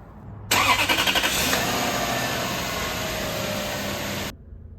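Lexus LS400 (Toyota Celsior) V8 engine idling steadily up close after a motor mount replacement, a smooth continuous hum that starts abruptly and cuts off just before the end.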